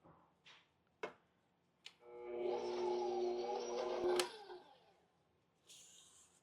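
An electric mixer whirs steadily for about two seconds as it beats cookie dough of fresh-milled wheat and spelt with added vanilla, a loud, even motor hum after a few short clicks and knocks, ending with a brief clatter.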